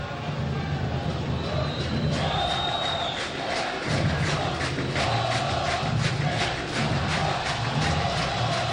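Vasco supporters protesting in a stadium crowd during a 2012 Brasileirão match against Bahia, a steady loud roar of massed chanting with rhythmic pulses, under a commentator's voice.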